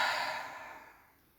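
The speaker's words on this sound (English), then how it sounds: "Out through the mouth, shoulders down." A single long exhalation out through the mouth during a guided breathing exercise, soft and close, fading gradually over about a second into quiet.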